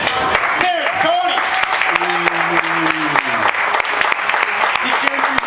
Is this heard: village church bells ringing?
no